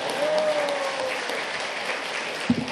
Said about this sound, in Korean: 박수 치시고 환영해 주시겠습니다.